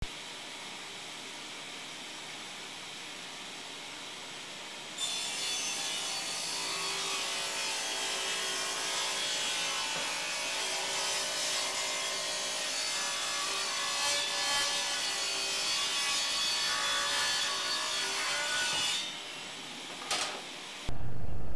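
A hand saw cuts through wood to make supports for storage crates. After a few quiet seconds, steady back-and-forth rasping strokes carry on close by for about fourteen seconds, then stop abruptly.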